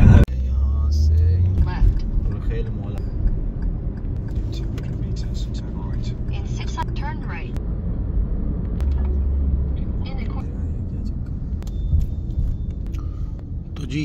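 A car drives toward a market in Dubai, heard from inside the cabin. A steady, low engine and road rumble runs throughout, with faint murmuring voices beneath it.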